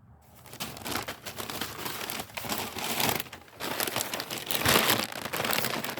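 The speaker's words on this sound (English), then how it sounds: "I just have a simple little pair of scissors so that I can cut some of the heads off of the coneflowers and the zinnias" Small scissors snip and crunch through dry coneflower and zinnia seed heads in a garden, making a close, continuous run of crackling, crinkling rustles with a few louder bursts.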